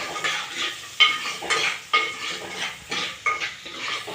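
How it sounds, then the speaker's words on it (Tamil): Onions with curry leaves and a little salt sautéing in a clay pot, with a spoon stirring in repeated scraping strokes over a soft sizzle, close and steady. "வெங்காயம் நல்லா வதங்கணும்."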